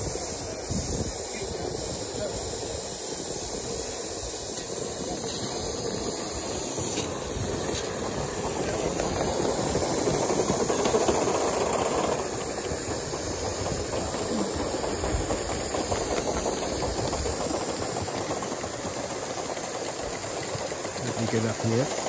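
Two Aster live steam model locomotives, King Arthur class, run double-headed on a garden railway, with a gauge 3 A4 nearby, making a continuous close rush of chuffing, hissing steam and wheel clatter that swells in the middle and keeps going throughout.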